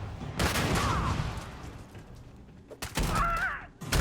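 Gunshots in the space game Starfield, a few loud close bursts with a pause between them and faint game sounds in the gaps.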